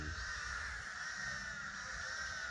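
Crows caw steadily from a single tree outdoors, a harsh continuous chorus of several birds fairly close, with a low rumble underneath and no talking.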